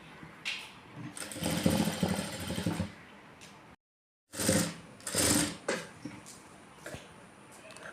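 A sewing machine stitches a blouse hem in short whirring bursts, running fast and then stopping, with a complete pause in the middle before more runs of stitching.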